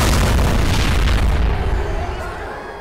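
A single deep, loud explosion in the video game Left 4 Dead booms and then rolls away into a fading rumble.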